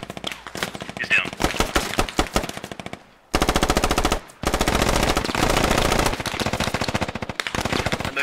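Machine gun fire in the tactical shooter Squad, rapid rattling bursts both near and distant, loud and repeated with short pauses between volleys and a brief silence midway.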